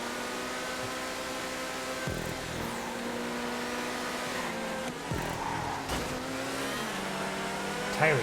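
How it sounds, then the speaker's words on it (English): A Tyrus race car from GTA 5 holds a steady, loud engine drone, with short dips at gear changes as it runs along a race track, and no talk over it. "Tyrus sounds so good."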